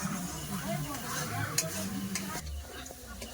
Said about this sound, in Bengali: মশলা কষা গেছে দেখুন কত সুন্দর তেল ছেড়ে গেছে